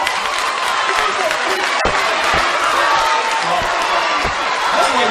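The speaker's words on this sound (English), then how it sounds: "What are you applauding?" An audience in a crowded hall applauds and cheers continuously, a dense wash of claps and shouts with a few sharp louder bangs.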